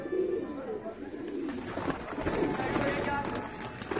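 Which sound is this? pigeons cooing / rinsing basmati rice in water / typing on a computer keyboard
pigeons cooing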